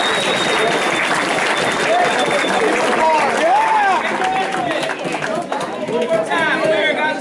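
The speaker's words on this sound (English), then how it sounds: "a big round of applause for 2016 varsity Jefferson" Loud, dense applause and cheering fill a high school football awards banquet hall for the varsity team, with excited crowd chatter and shouts layered over the clapping throughout.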